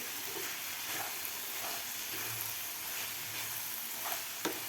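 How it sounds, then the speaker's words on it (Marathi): Cashews and tomatoes sauté together in a pan for a restaurant-style veg Kolhapuri, giving a steady close sizzle with occasional stirring scrapes and a sharp clink near the end. "तर काजूसुद्धा आपल्याला एक मिनिटभर व्यवस्थित ह्या टोमॅटोबरोबर व्यवस्थित परतून घ्यायचे आहेत"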